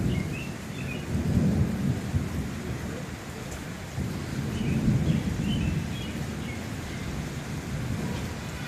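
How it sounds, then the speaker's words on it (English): A thunderstorm in Springfield with steady rain falling and low rolling thunder swelling twice, moderately loud and continuous throughout. "This side's still the storm."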